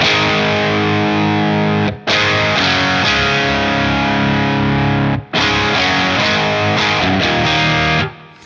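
Thick overdriven electric guitar chords through a Friedman Small Box pedal, emulating a British plexi-style amp, ring out loud and sustained, with brief breaks between strums, a crunchy amp-like distortion filling the sound.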